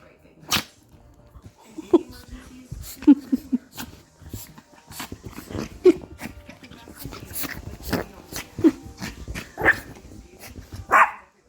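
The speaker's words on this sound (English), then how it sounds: "No barking." Close dog barking comes in irregular single yaps spread across the stretch, with quieter movement and some soft talking between them.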